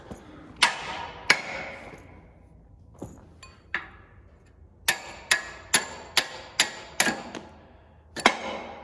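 A hammer strikes metal on a crumbler being welded, with about a dozen sharp, ringing blows at an uneven pace, several coming in a quick regular run, in an otherwise quiet space.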